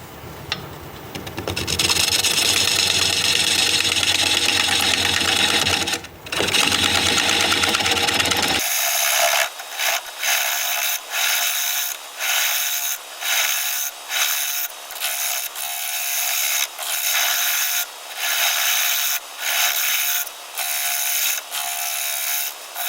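Wood lathe spinning a mounted wood block with a steady motor whir, then the turning tool cutting the underside in a rhythmic series of loud rasping scrapes, one after another.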